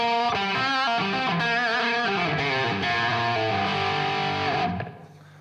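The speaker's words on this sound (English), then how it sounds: "you could have your full-on distortion sound" An electric guitar plays through a distortion pedal at full gain, ringing out a thick, sustained run of notes for about five seconds. The notes then cut off and fade into silence.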